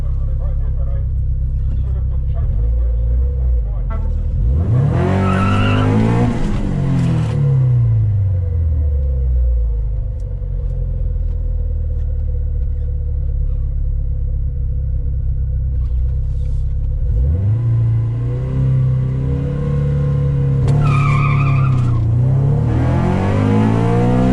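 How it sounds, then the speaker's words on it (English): A Honda Civic with a B20 VTEC swap revs up hard twice, the engine note climbing through the gears with a pause and deep idle rumble between pulls, loud and close throughout. "So I need to shift slowly into second, and then third gear I can gun it."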